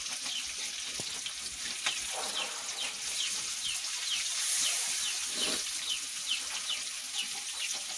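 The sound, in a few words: mullet (boi) fish frying in a pan after being flipped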